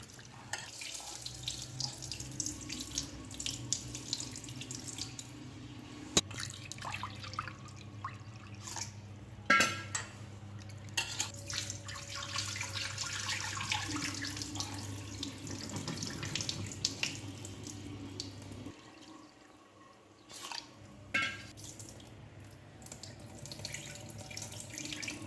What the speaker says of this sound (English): Rinse it with fresh water 2 to 3 times.